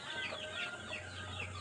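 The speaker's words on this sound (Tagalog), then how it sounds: "Magandang stag." Three-month-old gamefowl stag, a young rooster, giving soft, quiet clucks in a short run, close by and faint, with a low hum beneath and no talk.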